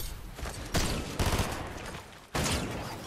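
Rapid gunfire bursts in a Fortnite duos cash cup match, loud and close, with three sharp volleys separated by brief lulls.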